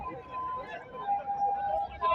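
At a deadly road accident scene, an emergency vehicle siren wails steadily and faintly in the distance, under nearby talking and background noise.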